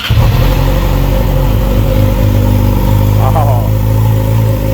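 A 2017 Yamaha YZF-R6 sport bike with a TOCE exhaust starting and idling loud and close, a deep steady rumble with brief revs, while someone talks over it.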